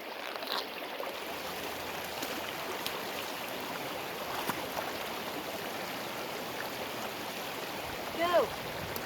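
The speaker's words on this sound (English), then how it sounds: "I'm going to bring you to one of our feeder streams so I can show you how to measure the varying water speeds in it." Water flows steadily through a small feeder stream outdoors, a continuous moderate burble and rush heard close by with a brief splash near the end.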